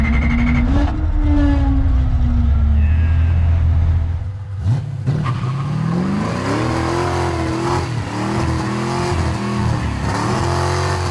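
A 1973 Ford Mustang restomod engine cranks, catches and starts, then revs repeatedly with rising and falling pitch, loud and close, with steady idle rumble between the revs.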